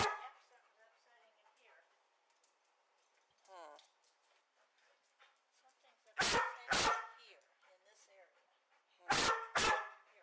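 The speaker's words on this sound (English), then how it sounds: "Notice the two barks at the regular space intervals." A trained dog barking in a basement gives two pairs of loud, sharp barks at evenly spaced intervals, following a stretch of quieter talk in the room.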